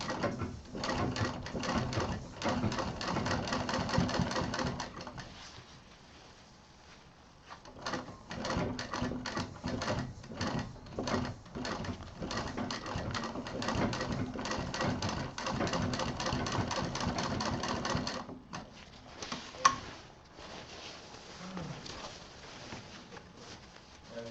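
Sewing machine stitching a baby backpack, rapid rattling stitch runs close by in several long bursts with short breaks between them, no talk.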